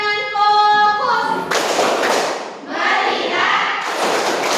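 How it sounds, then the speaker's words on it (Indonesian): A classroom of students claps together in a dense, loud burst of many hands that briefly dips and then resumes, after a short spoken lead-in. "kita tepuk tangan fokus dulu"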